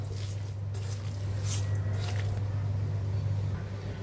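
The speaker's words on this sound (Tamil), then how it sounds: "இப்போ இது எல்லாத்தையும் நம்ம ஃபஸ்ட்டு கையாலேயே நல்லா மிக்ஸ் பண்ணிக்கலாம்" Minced mutton is kneaded with spices by hand for seekh kebab, giving soft, wet squishing and squelching over a constant low background hum, with no speech.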